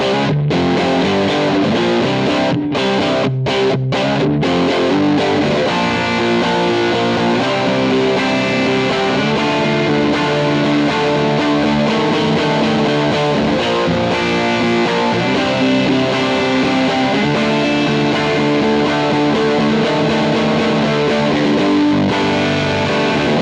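Heavily distorted electric guitar through a Titan amp with a Tim overdrive pedal on the Lords of the Underworld preset, playing continuously and loud with a few sharp stops near the start, alone without talk.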